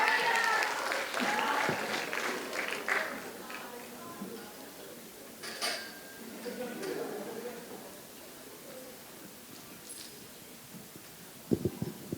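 Clapping from an audience at a poetry slam in Australia that gradually fades to scattered claps and quiet room noise, with a few sharp knocks near the end.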